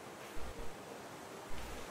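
Video game ocean waves in Raft, soft and distant, with two low swells washing in over a quiet noisy background.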